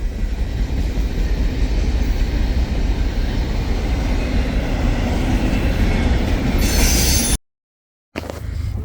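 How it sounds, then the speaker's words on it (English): A BNSF freight train rolls past close by, a steady loud rumble of wagons and wheels with clacking rhythm and a brief squeal, continuous throughout before a short cutout near the end. "This train took forever to leave Inman."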